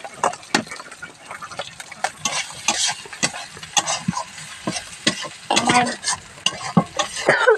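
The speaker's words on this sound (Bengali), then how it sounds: "গাজর আর আলু, এটা করে সঙ্গে হালকা করে একটুখানি ভেজে নিব" Carrots and potatoes fry in a pan to a steady sizzle, stirred with repeated scraping knocks from a utensil, close and fairly loud, with a brief spoken word.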